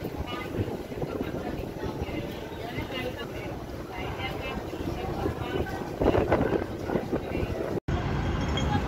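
Strong wind roars and buffets against the microphone in a constant low rumble on a ferry deck at Tsim Sha Tsui, Hong Kong, over a droning boat engine, with indistinct voices underneath.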